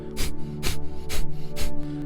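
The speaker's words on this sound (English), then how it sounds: "you will sharply exhale, followed by a passive inhale" Four sharp, forceful exhales through the nose in quick, even succession, Kapalbhati yoga breathing, close and breathy, with soft background music underneath.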